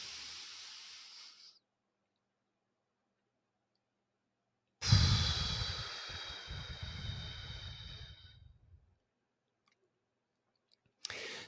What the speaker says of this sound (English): Just breathing in and out deeper will clear your mind, clear your spirit, and lower cortisol.